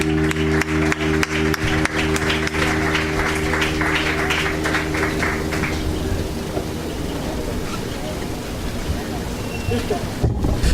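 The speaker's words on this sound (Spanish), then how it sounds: "Vamos a darle un fuerte aplauso" A church congregation applauding during a Spanish-language service, dense clapping with a musical drone underneath that gradually thins and fades into a rain-like patter.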